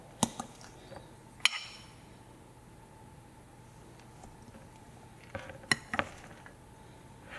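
A pumpkin spice walnut body polish being mashed and mixed in a bowl, heard as sparse close clinks and taps of a utensil against the bowl, with quiet stretches in between.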